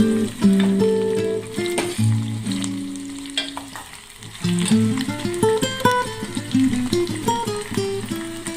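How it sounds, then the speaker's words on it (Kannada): Chopped onions fry in hot oil in a pan for a cucumber palya, with a loud, continuous close sizzle and bubbling crackle that swells and fades as they are stirred, and no talking. "ಎಣ್ಣೆ ಕಾದ ನಂತರ ಈರುಳ್ಳಿ ಹಾಕಬೇಕು ಈರುಳ್ಳಿಯನ್ನು ಚೆನ್ನಾಗಿ ಎಣ್ಣೆಯಲ್ಲಿ ಫ್ರೈ ಮಾಡಬೇಕು"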